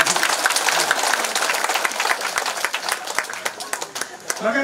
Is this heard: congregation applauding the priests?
yes